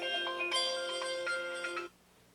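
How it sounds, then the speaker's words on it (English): A phone ringtone plays a bright, repeating electronic melody at moderate volume for close to two seconds, then stops abruptly, in a workshop with a Singer 15-91 sewing machine. "Forgot to silence the phone."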